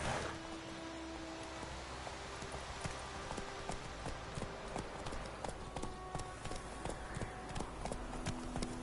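Geralt's horse Roach running in The Witcher 3, steady rhythmic clip-clop of hooves at a gallop under faint ambient rain-like noise, no talking.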